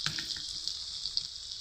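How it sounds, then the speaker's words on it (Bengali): Potatoes fry in a pan of oil with a continuous bright sizzle, close and steady, dotted with small pops and crackles. "এই দেখুন ভালো করে এবারে ভেজে নিই"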